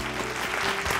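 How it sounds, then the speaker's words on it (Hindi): Studio audience applause on a Bhojpuri TV game show, a steady dense clapping wash that fills the whole second at moderate level, with faint tonal background music beneath. "जोरदार तालियां।"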